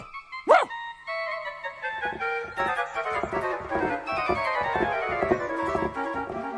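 A little dog barks repeatedly in a story scene, a burst of quick, yappy barks and yips running over a busy musical background at moderate loudness, with no voices.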